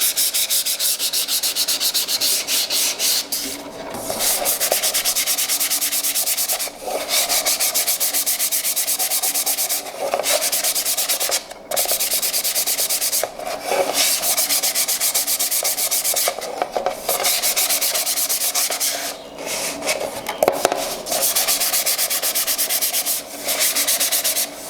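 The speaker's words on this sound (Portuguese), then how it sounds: "então eu vou passar a lixa também." Sandpaper rubs by hand across an MDF wood mandala in long, loud, rhythmic scratching strokes with brief pauses between passes, close up and continuous, with no voices.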